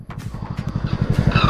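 Cars drifting and throwing smoke, heard as a steady engine roar with pulsing revs that builds louder toward the end, with a brief high tire squeal near the close.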